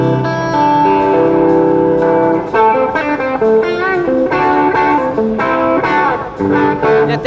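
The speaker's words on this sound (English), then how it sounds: "If I go to the modern mode, it breaks up, very boxy in sound." Electric guitar played through a Vox Nutube amp switched to modern mode, breaking up into boxy, harmonically rich tube distortion; sustained chords then a run of picked notes, loud and steady with no talking.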